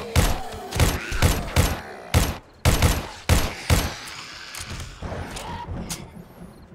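Loud gunshots ring out in 7 Days to Die Alpha 21, a run of sharp, heavy reports in a steady rhythm, each followed by a short echoing tail, then quieter ambience.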